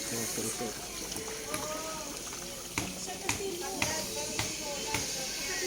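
Water pours from an improvised fountain on a farm under strong pressure, a continuous faint splashing wash beneath people talking nearby, with a few sharp taps breaking through.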